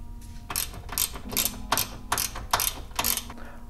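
A ratchet works on 10 mm hood latch bolts of a 2021 Toyota RAV4, giving about seven rapid clicking strokes in a steady rhythm, close and distinct with no talking.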